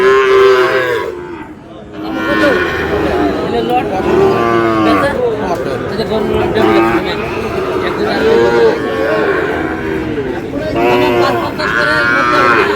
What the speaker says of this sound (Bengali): গরু আছে